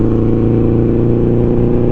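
A 1973 Honda CB750 motorcycle engine revs steadily up close, a loud continuous throbbing drone with strong low harmonics, no voices over it.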